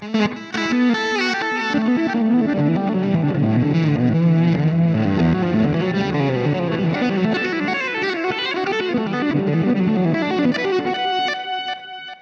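Guitar tone through a Fender Mustang LT25 amp's reverse delay effect, notes swelling in backwards and smearing into one another, dense and effected, playing steadily without pause.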